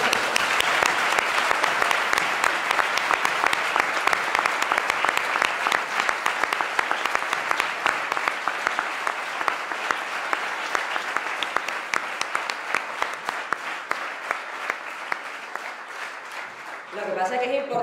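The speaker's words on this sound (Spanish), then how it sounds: "Un aplauso." Sustained audience applause fills a university hall at a Granada event on Bolivarian thought, loud dense clapping running steadily for about seventeen seconds before tapering off near the end.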